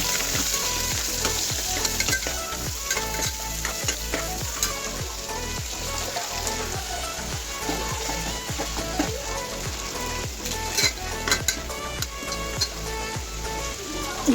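Onion and green chilli frying in a pan, a close, loud, crackling sizzle under a steady rhythm of spatula scrapes and stirs repeating roughly every half second.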